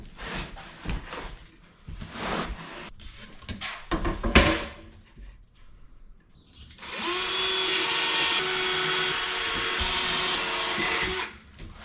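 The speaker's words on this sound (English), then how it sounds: "I'm gonna cut out the top piece first. I'm doing that in this 1/2 inch ply" A saw cuts through 1/2 inch plywood for the top of a camper van fridge storage box: scattered knocks and handling clatter come first, then a loud, steady cutting roar for about four seconds before it stops.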